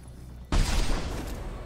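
Gunfire from a gun in the video game Mass Effect 2: a sudden loud blast bursts in after a quiet start, then a dense rumbling barrage that sustains close and heavy to the end.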